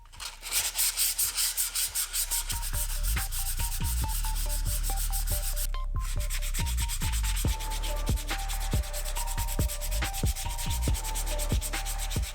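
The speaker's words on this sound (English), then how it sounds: "You just want to give it a light sand." Light hand sanding of dirt bike brake shoe pads, a fast rhythmic rasping rub repeated in quick strokes, close and loud, with a brief pause midway before the strokes resume.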